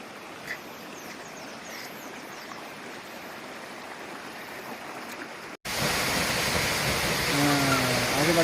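Waterfall and stream at Tinuyuan Falls, heard as a steady broadband rush of flowing water that grows noticeably louder and closer partway through, with no clear talk.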